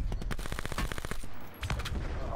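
Rapid bursts of VMP submachine gun fire in Call of Duty Blackout, a close, fast stream of sharp shots in quick succession, pausing briefly before another short burst resumes.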